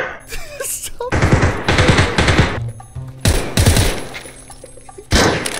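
Automatic gunfire rattles in the shooter game Escape from Tarkov, loud bursts repeating several times in quick succession with short pauses between them.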